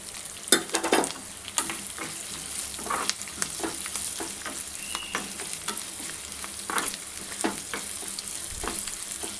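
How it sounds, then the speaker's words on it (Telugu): A tempering of oil and turmeric sizzles and crackles in a pan for brinjal chutney, with steady frying hiss and a series of sharp stirring clinks and pops. "చూడండి ఫ్రై అవుతుంది."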